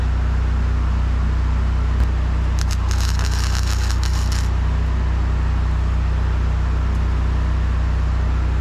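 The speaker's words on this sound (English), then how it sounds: "Kind of like stick welding with a wire machine." Flux core wire welding outdoors in a breeze during restoration of a 1960s Galion road grader: a crackling, spattering burst lasting about two seconds over a steady low engine drone.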